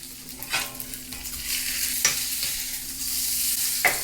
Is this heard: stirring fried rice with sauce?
yes